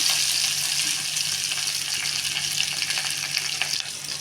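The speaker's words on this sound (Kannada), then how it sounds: "ಹಾಕಿಬಿಟ್ಟು ಇವಾಗ ಸ್ವಲ್ಪ ಎಣ್ಣೆಲಿ ಈ ಥರ ಬಾಡ್ತೀವಿ" Onions and curry leaves frying in a little oil for sprouted chickpea sambar, giving a steady, dense sizzle throughout with faint stirring and no voices.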